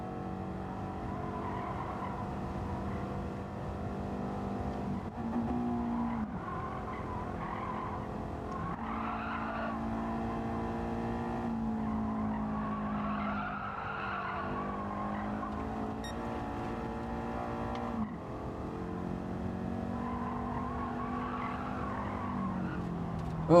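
A race car in Gran Turismo 7 skids and spins out during an online lobby race, with sustained tire squeal and engine whine wavering over several seconds at a steady moderate level, with no talking.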